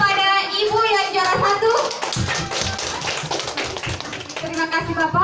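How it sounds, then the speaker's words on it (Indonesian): An audience at a family-planning outreach event claps for the first-place winner, a dense patter of hand claps that builds after a voice on a microphone and keeps going under further talk. "Kami berikan aplaus kepada Ibu yang juara"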